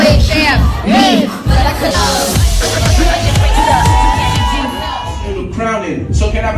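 A crowd at a large sweet 16 party cheers and whoops loudly, with shouting voices overlapping in a lively, close roar.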